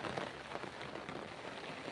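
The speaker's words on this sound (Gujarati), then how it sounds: "મારી પાછળ આગળ પાછળ વરસાદ બહુ ચાલુ છે યાર એકદમ ફૂલ ચાલુ છે વરસાદ" Heavy rain pours down in a village, a steady, even hiss of drops with no break, moderately faint, and no voices.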